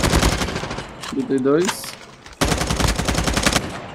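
Rapid bursts of automatic gunfire crackle through most of the clip, briefly dropping out while a voice speaks, then resuming loud and dense, in a Call of Duty Mobile battle royale match.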